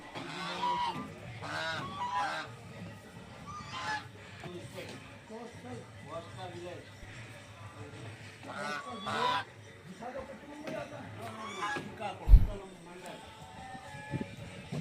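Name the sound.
ducks at a temple cowshed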